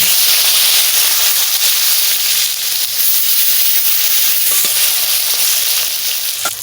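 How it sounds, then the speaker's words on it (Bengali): Eggplant frying in hot oil gives a steady, loud, close hiss and sizzle that holds evenly throughout, with faint crackles and no voices. "তেল দিয়ে দিচ্ছি বেগুন"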